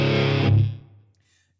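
An electric guitar played through the NeuralDSP Archetype plugin sounds one loud distorted chord, then lets it ring out into a short reverb tail that fades to near silence.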